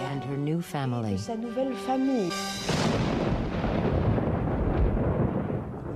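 A thunderstorm rumbles in on the night of a royal wedding, a deep, loud, sustained roll of thunder with crackling texture that follows a swelling orchestral chord and slowly fades.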